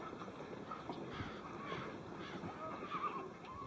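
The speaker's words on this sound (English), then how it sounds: "the local sport was racing the draft horses who once pulled timber out of the forests" Racing draft horses on Hokkaido, Japan, the former timber-pulling breed, whinny loudly several times while hooves clip-clop steadily underneath, fairly close.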